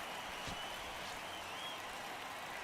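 Crowd noise in MLB The Show 23 baseball video game during a tense ninth inning, a faint, steady roar of cheering spectators with a brief swell near the start, no talk.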